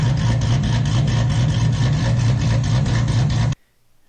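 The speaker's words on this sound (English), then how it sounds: "It's a 2014 Dodge Charger. It's got a 274 comp cam." 2014 Dodge Charger Hemi V8 with a 274 Comp cam idling, a loud, close, lumpy rhythmic rumble that holds steady and then cuts off abruptly near the end.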